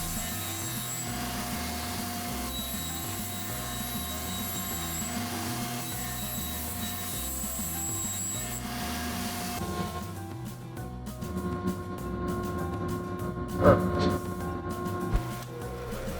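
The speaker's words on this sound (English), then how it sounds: "I made multiple passes on the table saw to cut a small dado in the 3/4 inch plywood" A table saw fitted with a dado stack makes multiple passes through 3/4 inch plywood, a continuous loud whining hum that shifts character partway through, with a few brief knocks near the end and no talk.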